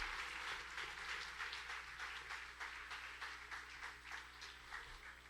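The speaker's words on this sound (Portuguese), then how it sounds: "Uma salva de palmas para eles" A church congregation at a Christmas service applauds in a soft, continuous patter heard from some distance, with a low steady hum running beneath the clapping.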